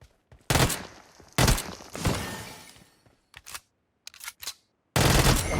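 Bursts of AKM rifle fire in a battle royale video game crack out in several separate loud volleys with short silent gaps between them.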